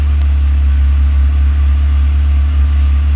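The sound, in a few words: Ferrari 360 Spider engine load changing as alternator charges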